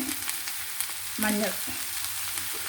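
Sessile joyweed spinach sautéing with onions in a pan gives a steady close sizzle and frying hiss, with a brief louder burst of stirring in the middle.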